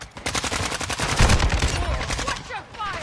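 Rapid automatic gunfire from a battle royale video game, dense overlapping bursts and single shots rattling close and loud through the whole stretch.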